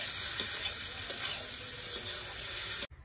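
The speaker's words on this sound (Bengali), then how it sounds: "একদম পুরো তেল টুকটুক করে ভাজা হচ্ছে" Meat fries in bubbling oil in an outdoor cooking pot, a close, even sizzle with occasional light stirring taps, ending suddenly.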